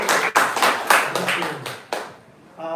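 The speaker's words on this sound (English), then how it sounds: "I'm going to round of applause for Ari and his merry band of Kirtaniyas." Clapping for a kirtan band after a Sunday Bhagavat Sravana program, a series of strong claps from a small gathering that fades out before a voice begins speaking.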